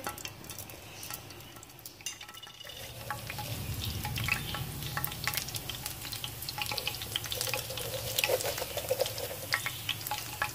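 Hot ghee sizzles and crackles steadily in a pan, with occasional clinks of a utensil against metal and no talking.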